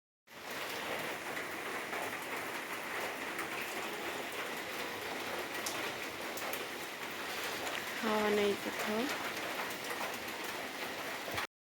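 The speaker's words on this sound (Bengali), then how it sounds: "বাইরে অসম্ভব বৃষ্টি হচ্ছে" Heavy winter rain pours down steadily outside, a dense hiss of drops on surfaces, with a faint voice briefly heard near the end.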